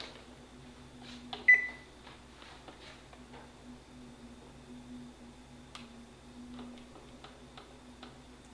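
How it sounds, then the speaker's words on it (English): An oven timer being set for baked apples, with a short electronic beep and faint button ticks over a steady appliance hum, nearby and quiet. "And it's time to set the timer."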